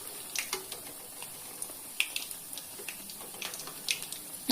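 Onion bondas fry in hot oil, giving a steady close crackle with scattered sharper pops and bubbling bursts throughout, and no voices.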